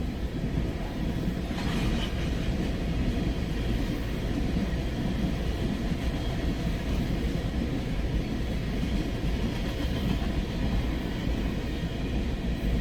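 A CN freight train, S708, rolls past at Ladysmith in a steady, continuous low rumble of railcars with faint clickety-clack, holding an even loudness throughout with no talking.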